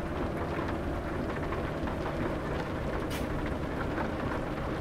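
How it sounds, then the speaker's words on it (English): Heavy rain pours steadily in Euro Truck Simulator 2 while driving a truck on a European highway, a dense continuous hiss with a faint low rumble throughout and no talking. "Oh, it's pouring out here."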